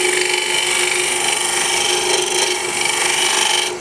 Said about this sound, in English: To go back to hollowing, I'm going to take my little 3/8 inch round bar with the 12mm cutter.